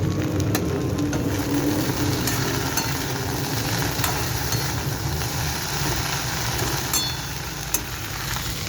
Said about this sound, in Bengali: এখানে ভেন্ডি হচ্ছে ভেন্ডি ভাজা